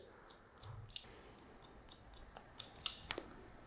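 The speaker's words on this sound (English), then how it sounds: "So I'm gonna point cut into this." Scissors point-cut hair during a mid fade haircut, with a quiet series of small, irregular crisp snips heard close up in an otherwise hushed room.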